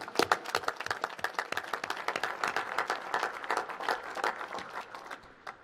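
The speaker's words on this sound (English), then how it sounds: "So give yourselves a round of applause." Applause from an audience at a National Space Council meeting, many hands clapping in a sustained wash that tapers off slightly at the end.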